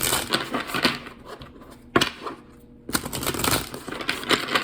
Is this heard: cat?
no